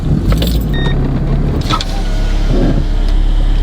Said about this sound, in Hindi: मैं जरा गाड़ी निकालता हूँ